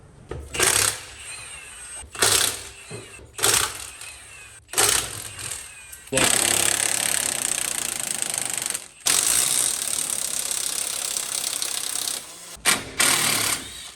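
Bolts being loosened on a car with a power tool: several short, loud bursts, then a long, steady, harsh whirring run that breaks off briefly and ends in a few more quick bursts, close by.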